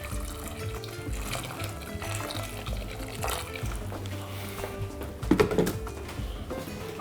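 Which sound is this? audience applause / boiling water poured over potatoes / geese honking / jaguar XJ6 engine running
boiling water poured over potatoes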